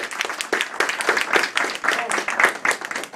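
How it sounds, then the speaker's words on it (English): An audience claps in a room to recognize a group of executive directors, with steady, rhythmic hand claps and voices mixed in throughout. "y'all give them a round of applause."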